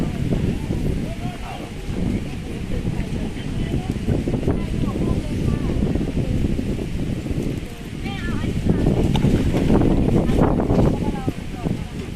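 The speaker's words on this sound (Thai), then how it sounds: "ลมแรงนะคะ ตอนนี้ พายุก็มานะคะ" Strong gusty wind from an approaching storm roars and buffets the microphone in a low rumble, surging louder toward the end, with voices faintly underneath.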